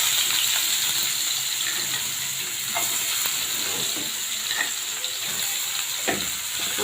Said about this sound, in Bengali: এখন আমি তেলে পেঁয়াজ কুচি দিচ্ছি